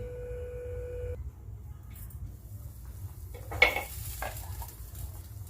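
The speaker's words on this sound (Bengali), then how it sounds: "এবারে আমি ঢাকা দিয়ে দিচ্ছি মাংসটা সেদ্ধ হওয়ার জন্য" A metal lid clatters onto a pot of homemade chicken stew set over a simmering gas flame, giving one sharp clank followed by a softer knock against a quiet background hum.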